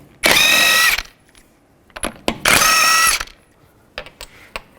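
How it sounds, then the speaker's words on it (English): Ratchet wrench with a 21mm socket loosening a wheel on a Nissan Xterra: two loud, rapid whirring ratchet bursts, each about a second long, close up, with clicks and clanks between them. "Take a 21mm socket, remove the wheel."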